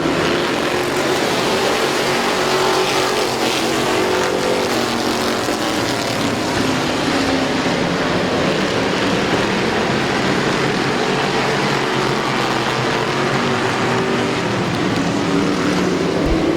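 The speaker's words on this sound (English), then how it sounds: "20-lap street stock feature. Green flag is in the air." Street stock race cars roar off at the green flag of a 20-lap feature at a dirt speedway, a dense, loud, continuous wall of engine noise that holds steady throughout.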